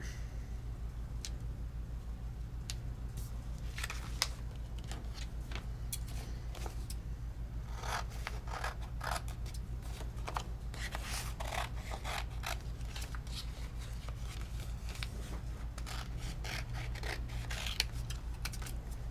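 Scissors snip and trim paper for a decoupage card piece, with irregular crisp cuts and rustling over a steady low hum, and no talking.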